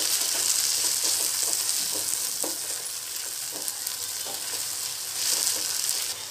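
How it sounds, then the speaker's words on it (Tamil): Masala being stirred into ladyfinger (okra) frying in a pan for tamarind kuzhambu, a steady loud sizzle with repeated scraping strokes of a spoon, no voices. "இப்போ இதோட அந்த மசாலாவை சேர்த்துக்கலாம். சேர்த்துட்டு அதையும் நல்லா கிளறிக்கலாம்."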